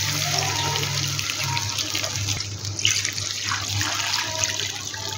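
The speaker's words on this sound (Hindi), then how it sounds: "अब इसमें हम शामिल करेंगे पानी।" Water pours steadily into a cooking pot for beef pulao rice, a continuous close splashing stream with no talk.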